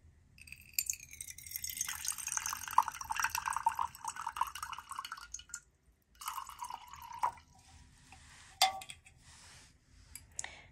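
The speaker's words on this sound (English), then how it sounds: "I'm just going to grab my glass here and pour it into the glass." Canned alkaline spring water pours into a drinking glass, a close, quiet glugging stream with bubbling and trickling that stops and starts again, ending in a few small drips and clinks.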